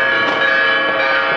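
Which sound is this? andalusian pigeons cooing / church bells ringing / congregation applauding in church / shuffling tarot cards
church bells ringing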